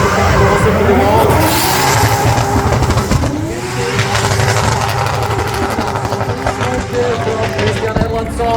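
A yellow S14 Nissan Silvia drift car on a qualifying course, its engine roaring loud and continuous with revving, tyre squeal and crowd noise, under an excited commentator's voice.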